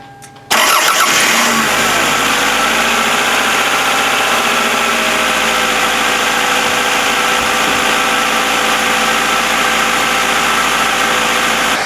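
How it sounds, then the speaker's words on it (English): A car engine, after motor mount replacement, cranks and catches, then settles into a loud, steady idle that runs continuously. "I'm going to start the engine and see if it's still moving like before"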